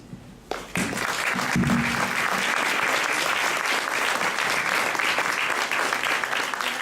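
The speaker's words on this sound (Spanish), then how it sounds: "Más fuerte, por favor, el aplauso para el doctor Eduardo Vicente Nibón Bolán." Sustained, dense applause from a conference audience honoring a speaker on cultural policy in Mexico, starting abruptly and holding loud and steady throughout.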